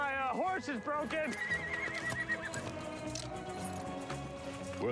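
A horse gives a loud, wavering neigh near the start, followed by clip-clopping and a busy mix of talk and background sound.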